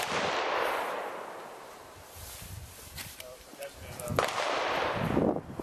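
Handgun shots ring out at a defensive handgun training course: a few sharp cracks spaced through a noisy, rushing background, with people talking around them.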